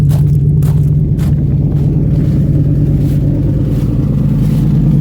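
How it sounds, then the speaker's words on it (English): An old truck engine with exhaust leaks idles steadily up close, a deep, constant low rumble with a slightly uneven, chuffing pulse and no voices. "It's got some exhaust leaks, all that stuff. I love the sound."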